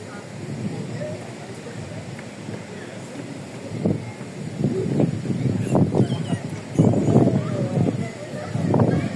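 Cold wind buffets and rumbles against the microphone in uneven gusts at a night-time mountain lookout, with people talking over it.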